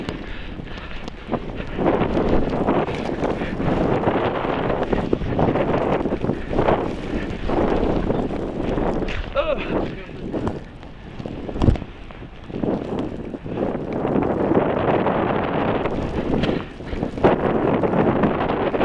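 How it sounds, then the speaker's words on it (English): A boat pounds through choppy water, with steady, loud broadband rumble, wind buffeting and repeated slapping impacts from the hull hitting waves across the whole stretch. "I know, we're kind of just riding through chop."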